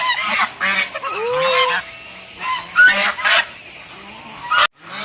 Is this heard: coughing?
no